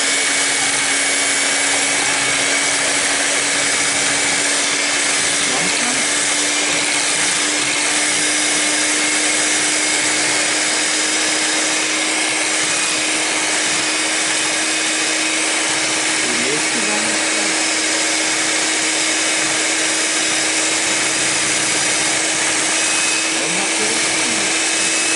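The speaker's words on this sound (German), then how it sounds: "Den Mixer auf kleine Stücke." An electric mixer running steadily while mixing batter for a Black Forest cake, a loud continuous whir holding a constant pitch for the whole stretch with no pauses.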